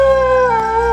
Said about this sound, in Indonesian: melolong.